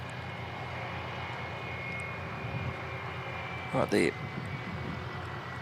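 An aircraft taxiing along runway 20 at Christchurch Airport, New Zealand, giving a low, steady, distant engine drone, with a brief burst of nearby noise and a short spoken remark partway through.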